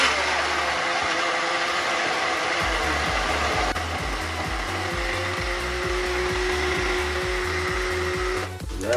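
A kitchen blender whirs steadily, liquefying sauce ingredients with half a small glass of water for ranchero tacos, loud and continuous with a rhythmic low pulsing that eases slightly near the end.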